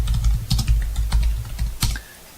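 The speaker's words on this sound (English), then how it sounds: "So I'm just going to type in" Fast typing on a computer keyboard, a close run of crisp key clicks and thumps that stops near the end, with no talking.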